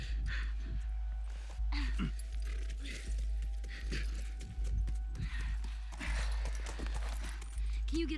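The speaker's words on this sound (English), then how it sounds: "Just get the horse." Horse hooves clip-clop in The Last of Us Remastered, a steady run of soft thuds under constant game ambience and music, with occasional talk over the top.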